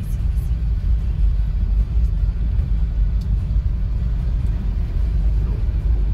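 A vehicle pushes through a flooded road during heavy rain in Bhopal, giving a steady low engine rumble with water wash, loud and continuous with no clear speech.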